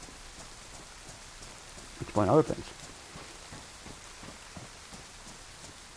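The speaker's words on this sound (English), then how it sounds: "Now it is raining" Steady rain falls in the survival video game DayZ, a constant close hiss throughout, with someone talking briefly over it partway through.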